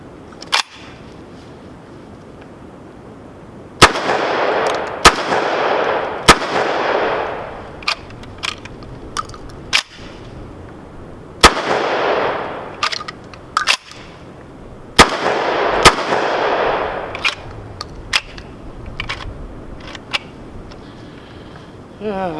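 A VEPR 12 AK-pattern shotgun fires Federal 7.5 shot light loads in several irregular bursts, each sharp report leaving a trailing ring, with metallic clacks and clicks between shots and a voice talking in the pauses.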